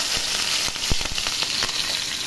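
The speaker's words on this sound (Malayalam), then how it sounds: "ആ കശുവണ്ടി വറുത്ത് കോരിയ നെയ്യിലോട്ട് നമുക്ക് പച്ചമുളക് ചെറുതായിട്ട് അരിഞ്ഞ് ഇട്ട് കൊടുക്കാം." Chopped green chillies fry in hot ghee in a pan, a dense close sizzle broken by several quick stirring scrapes, with no voices.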